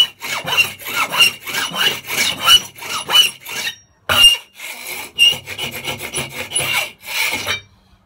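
Scraping off a high point on a repaired, epoxied surface, a series of loud, close rasping strokes in a steady rhythm with brief pauses between groups.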